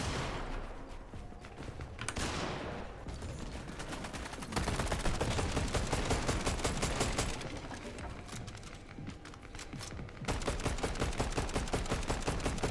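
Sustained gunfire during a Fortnite solo Cash Cup match, with rapid volleys of close shots rattling continuously and brief lulls between heavier bursts over about thirteen seconds.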